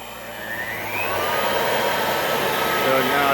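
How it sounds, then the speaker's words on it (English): Electric blower powered through a speed-controlling power converter, a steady airy whoosh and whine that swells louder as it picks up speed, close by and continuous. "So I have this blower hooked up to the converter here."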